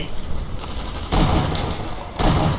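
Bursts of gunfire in Sniper Elite V2, loud rapid volleys starting abruptly at intervals with a rough, sustained rattle between them.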